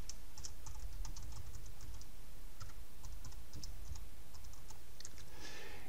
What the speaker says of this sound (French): Je vais taper traverse longue.